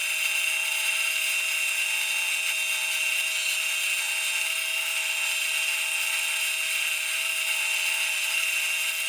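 Wood spins on a lathe while being sanded with 600 grit paper for a pizza cutter, a steady high whirring hum with a faint continuous rasp, even and unbroken, at moderate level.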